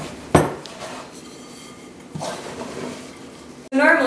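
Bannock dough being stirred in a bowl by hand, with a sharp clink of a utensil against the bowl, soft scraping and mixing sounds, and a burst of louder clatter at the end.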